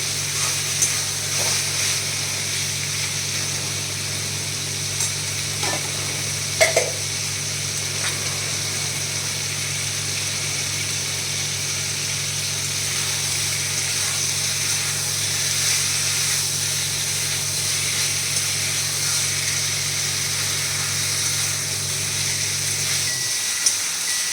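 Water heating in a pot on a kitchen stove gives a steady broad hiss with a low constant hum underneath and a couple of faint clinks, the hum cutting off near the end.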